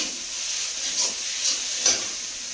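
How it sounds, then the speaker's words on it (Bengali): Spices frying in hot oil for a meat curry give a steady, close sizzling hiss, with a few brief louder crackles rising out of it. "মশলাটা ভাজা ভাজা হয়ে গেছে, মাংসটা দিয়ে দেবো।"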